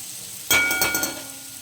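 Turmeric hits hot oil during tempering for masala dosa filling, a sudden loud sizzle that bursts up and then crackles and fades, with a light metallic clink, no voices.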